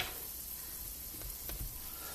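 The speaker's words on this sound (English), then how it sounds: "You hear that sizzling?" A steady, close sizzle of batter frying in a hot pan, hissing evenly throughout with a couple of faint clicks and no talking.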